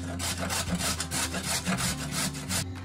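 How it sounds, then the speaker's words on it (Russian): Carrot rubbed on a coarse grater in a home kitchen, about a dozen quick rhythmic rasping strokes at close range, steady and alone. "Морковь нужно потереть на крупной терке."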